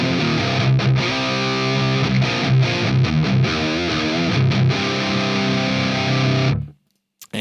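An electric guitar played through the Axe Fx Recto 1 Red rectifier amp model at stock settings gives a loud, heavily distorted, chugging riff that rings steadily for about six seconds, then cuts off abruptly.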